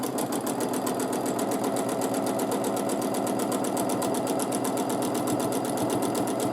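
A sewing machine quilts feather motifs, humming continuously at high speed with a fast, even needle rhythm and no pauses, close and steady throughout.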